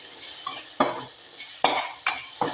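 Onions sautéing in a pan for a papaya masala curry, stirred with a spoon in five or six sharp scraping strokes over a soft background sizzle, close and fairly loud with no talking.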